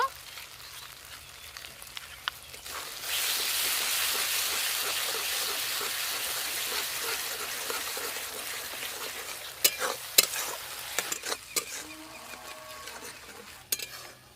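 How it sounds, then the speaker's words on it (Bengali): Spice paste fries in a pan for a Bengali fish curry, starting with a few quiet scrapes and then a steady loud sizzle under spatula stirring. Sharp clanks of utensil on metal come later, and no one speaks. "মশলা খুব ভালো করে কষে নিয়েছি।"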